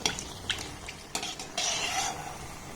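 Chittagong pakon pitha rice cakes frying in a pan give a soft steady sizzle, with light scraping and clinks of a utensil against the pan.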